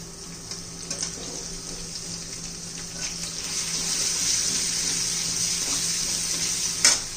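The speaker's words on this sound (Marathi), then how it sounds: "आता त्याच तेलामध्ये आपण आलं लसूण पेस्ट टाकायची आहे" Ginger garlic paste fries in hot oil in a pan, giving a steady close sizzle and hiss with a few stirring clinks and a brief louder crackle near the end.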